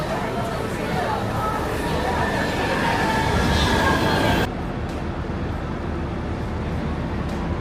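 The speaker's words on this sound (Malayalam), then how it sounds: "ഇതാണ് കോപ്പൻഹാഗൻ്റെ സെൻട്രൽ റെയിൽവേ സ്റ്റേഷൻ" Busy crowd noise inside Copenhagen Central railway station while waiting for a train, a steady wash of chatter and station rumble that drops to a quieter hum partway through, with no clear train passing.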